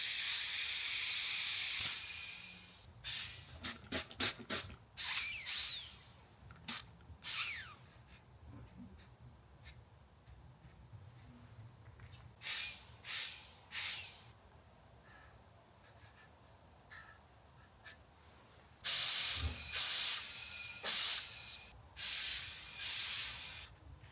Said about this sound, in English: I can already hear air coming out of this thing.